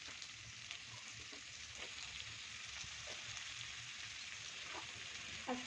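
Eggplant frying in a pan for a spinach dish, a soft steady sizzle with occasional light stirring clicks, quiet and close with no voices.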